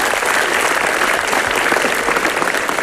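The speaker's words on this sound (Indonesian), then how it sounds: "Boleh tepuk tangan buat kalian semua." A dense, loud burst of audience applause fills a comedy show hall full of Indonesian university students, steady and continuous from start to finish.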